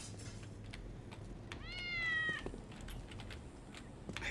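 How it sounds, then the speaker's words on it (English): A single cat meow in the Postal 2 video game, a clear rising-then-falling call lasting under a second against quiet background noise and faint clicking. "I don't remember the cats all being different back in the day"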